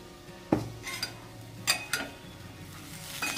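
Brinjal bhaji being stirred in a pan, with a few close clinks and scrapes of a spoon against metal over a faint background, sparse and irregular.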